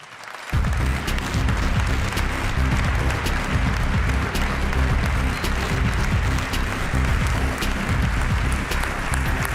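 An awards-ceremony audience bursts into applause after a brief quiet moment, a large crowd clapping loudly and evenly for several seconds without any speech.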